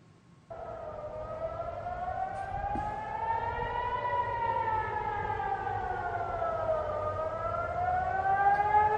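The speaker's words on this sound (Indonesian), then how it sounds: "Ini adalah momen saat sirene peringatan serangan udara meraung di wilayah Ramagan, Israel." An air raid warning siren wails in the Ramat Gan area of Israel during a rocket attack: a loud, sustained civil defense tone that starts abruptly and slowly rises and falls in pitch, with no voices.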